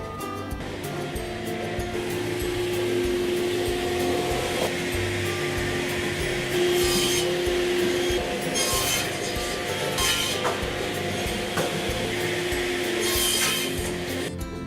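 Wooden boards are cut for a DIY coffee table, producing a steady, unbroken rasping and rushing noise that runs the whole time at an even level with no one talking.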